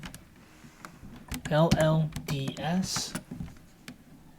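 Sharp key clicks from a computer keyboard as a short entry is typed into node-based software, heard close up and partly under a man's speech.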